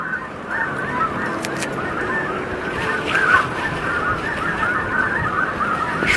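Snow geese honk continuously during a spring hunt, a dense chorus of many birds calling from a distance with a few nearer honks rising above, and no talk.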